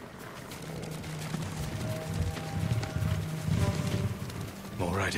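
Horse hooves clip-clop in a Ghost of Tsushima scene, a steady moderate trot that is present but fairly low, running under game ambience and other background sounds.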